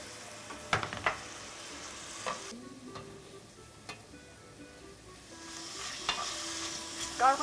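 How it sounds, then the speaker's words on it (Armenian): Pieces of meat frying together in a pan: a soft, continuous sizzle broken by sharp clicks and scrapes from stirring, some louder bursts toward the end, with no talk. "արդեն միսներ դնենք, թող իրար հետ տապակվեն։"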